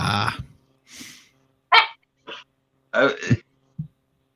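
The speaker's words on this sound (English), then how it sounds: "Can y'all hear my dog?" A pet dog barks and huffs in short separate bursts at home, several uneven woofs with gaps between them, close and fairly loud with no talk over them.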